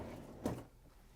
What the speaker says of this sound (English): In order to change out the part, we have to open up the freezer door.